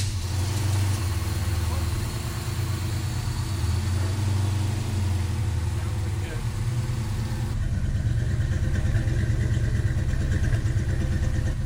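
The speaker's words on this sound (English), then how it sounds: "Idling a little high. I think it's got a vacuum leak" A pickup truck engine idles steadily and slightly high with a low, rumbling drone throughout, slightly uneven, with faint voices or background noise mixed in.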